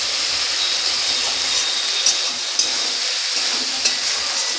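Cumin paste sautés in a pan for ridge gourd curry, with a steady close sizzle and a few sharp utensil clicks scattered through it. Nobody talks.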